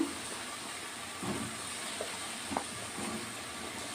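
Ridge gourd pieces dropped into sizzling gravy in a pan: a steady soft hiss with a few faint plops and bubbling pops, close but quiet.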